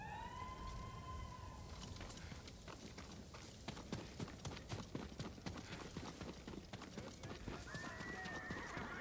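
In the game Ghost of Tsushima, a horse whinnies and then its hooves clip-clop in a steady rhythm, close and clear, with an outdoor ambience and distant siren-like tones behind.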